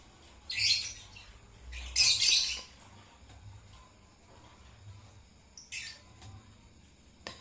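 Lovebirds kept in a cage at night give several sharp, high squawks in short bursts, with quieter chirps between them against a quiet background.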